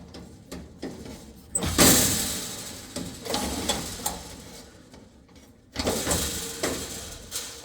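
The metal mesh screen of a Heatilator gas fireplace is lifted off its bolts and pulled away. Close metallic clinks, scrapes and rattles come in several bursts, the loudest near the start and again toward the end, with no voices.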